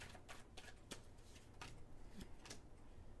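Tarot cards being shuffled and drawn by hand, a soft run of papery riffles and flicks at close range with no talking.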